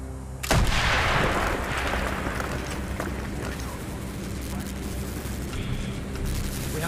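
A loud explosion in Call of Duty: Black Ops blasts a hole through a wall, its sudden roar decaying into a long rumbling tail mixed with distant gunfire and battle noise.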